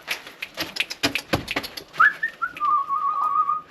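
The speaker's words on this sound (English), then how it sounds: "Just try and say come. You just whistle." After a run of sharp clicks and taps, a person whistles a clear rising call followed by a long sustained tone, close and fairly loud, to summon dogs.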